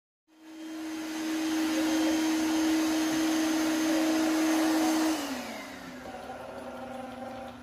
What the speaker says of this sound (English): So this is more of a basic robot vacuum